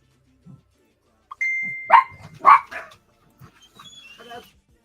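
Dogs giving a few sharp barks and yips at moderate distance, spaced irregularly over a few seconds, with a faint electronic tone in the background and no talking.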